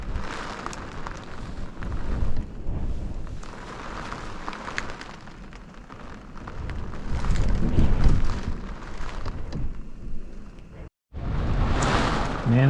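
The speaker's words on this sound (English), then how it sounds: "I'm just getting rained on while I'm in bed" Steady rain drums on the thin roof of a 13-foot Scamp camping trailer with low rolling thunder rumbling through, briefly cutting out before resuming.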